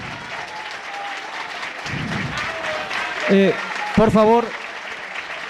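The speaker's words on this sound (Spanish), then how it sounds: "Voy a pedir un aplauso más a don Fernando Vargas a tiempo de despedirlo." Audience applause at the close of a talk and Q&A session, a steady wash of clapping filling the room while someone speaks briefly over it with a few words.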